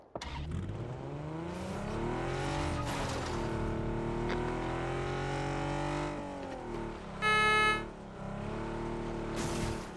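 A car in PUBG drives with a loud, steady engine drone whose pitch rises and falls as it revs, joined briefly by a sharp, high whine near the end.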